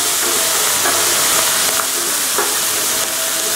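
Mongolian pork with scallion stir-frying over high heat in a pan, a loud continuous sizzle with faint scraping stirs now and then.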